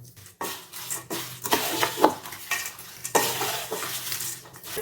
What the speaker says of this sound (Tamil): இப்போ இதில் காரத்துக்கு கொஞ்சமாக மிளகாத்தூள், பெருங்காயத்தூள் இப்போ ரெண்டும் சேர்த்து சூட்டோடவே போட்டு கலக்கிடுங்க